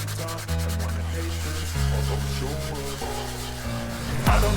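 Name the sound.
hand sanding wood filler on a bird feeder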